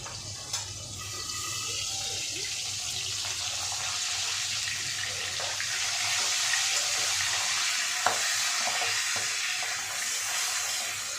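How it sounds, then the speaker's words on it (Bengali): Boal fish frying in a thin coat of mustard oil under a lid, a dense, steady hiss of spattering oil that carries evenly throughout, close and without talk. "বোয়াল মাছটা খুব ফাটে ওর জন্য আমি ঢেকে দিয়েছি"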